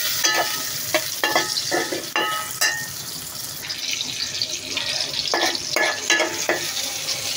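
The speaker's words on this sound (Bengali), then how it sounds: "আমি পরিমাণ মতো তেল দিয়েছি, ওখানে পেঁয়াজ আর টমেটোগুলো দিয়ে দিলাম।" Onions and tomatoes fry in oil in a pan for a pope fish curry, giving a loud continuous sizzle broken by repeated scraping stirs, close up, with no talking.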